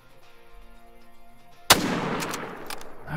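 Rifle gunshot with .300 soft point ammunition in the Call of the Wild hunting game, Africa setting: one sharp, loud shot cracks out after quiet background music and rolls into a long echoing tail.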